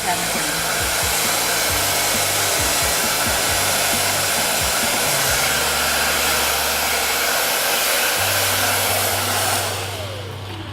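A hair dryer blows steadily and loudly on short curly hair, a continuous close whoosh with shifting motor hum that fades slightly at the very end.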